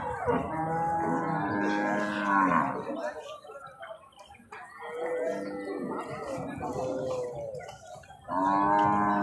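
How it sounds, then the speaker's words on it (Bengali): Large cattle, including Sahiwal and Gir breeds, low loudly at a cattle market near the India–Bangladesh border, with three long, drawn-out moos separated by short gaps of quieter background. "সেই বড় বড় গরু নামছে"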